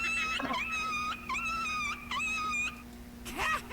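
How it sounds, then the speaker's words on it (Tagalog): A dog whimpers and wails in long, high, drawn-out cries, three or four sustained moans with short breaks between them, close and fairly loud over a steady background hum. "Oh, may aso si DJ, oh."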